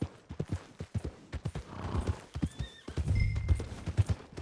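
A horse in Red Dead Redemption 2 clops along with fairly loud, close hoofbeats, then lets out a neigh partway through, while the steady hoof rhythm carries on with no talking over it.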